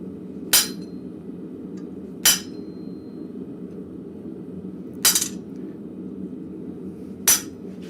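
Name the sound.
cold chisel marking steel shelf bracket stock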